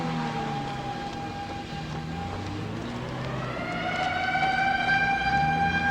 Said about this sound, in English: Air raid sirens going off here.